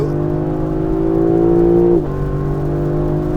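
A Lexus LC 500 naturally aspirated V8 sports coupe engine (2024 facelift) revs up close and loud, the tone rising and holding, then dropping sharply back toward a deep idle.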